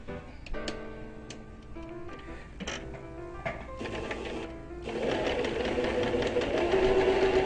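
A sewing machine stitches upholstery fabric for a seat cover, its needle ticking in quick bursts with short pauses, then settling into a steadier, denser running hum near the end.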